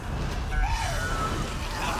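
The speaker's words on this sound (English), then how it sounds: "I heard the innkeeper scream" An innkeeper in The Elder Scrolls Online screams, a short, strained cry with a falling pitch over a dense, noisy game background.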